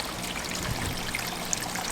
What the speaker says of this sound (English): Oh, it's bubbling over.